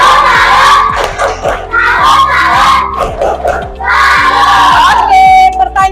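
A class of fifth-grade primary pupils performs a patterned salute clap in their classroom. Sharp, rhythmic hand claps are mixed with loud, excited shouting and chanting from the children, close and energetic throughout.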